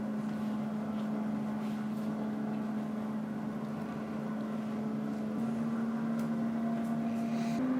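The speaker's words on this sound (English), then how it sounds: "Air fryer's up to temperature." An air fryer preheated to 400 degrees runs with a steady fan whir and a constant low hum, droning evenly in the background without pause.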